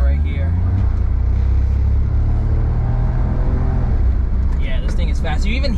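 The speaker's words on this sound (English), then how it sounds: "You even hear the turbo squeak." A kei car's engine roars hard under acceleration in a steady, loud drone, with a faint high squeak from the turbo rising near the end and a voice talking over it.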